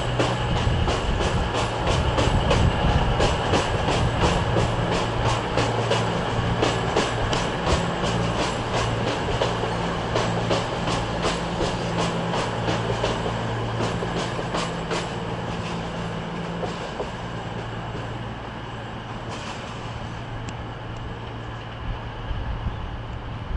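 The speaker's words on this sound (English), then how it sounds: "There comes a cross-country service," A CrossCountry train, unit 220017, runs through Manchester Piccadilly station with a steady, loud rumble. Rhythmic wheel clicks rise over it before the sound slowly fades as the train moves on.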